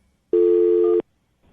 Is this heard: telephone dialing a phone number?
yes